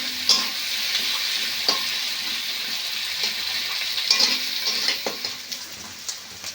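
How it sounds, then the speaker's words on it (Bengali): Onions fry in a pan being browned, a continuous hiss and crackle of sizzling oil with occasional stirring knocks, close and steady throughout. "পেঁয়াজটা একটু লাল লাল করে ভেজে নেব"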